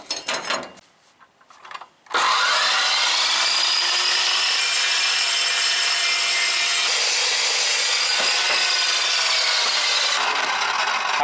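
A big power saw bites into metal with a loud, steady grinding whine that holds for about nine seconds after a brief quieter start.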